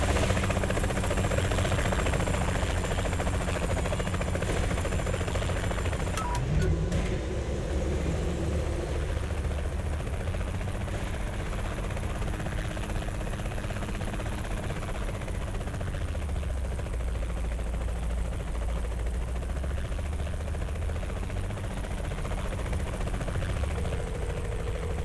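Helicopter in the video game Saints Row The Third, a steady low engine drone and rotor hum that persists for the whole stretch under faint game ambience, with no talk.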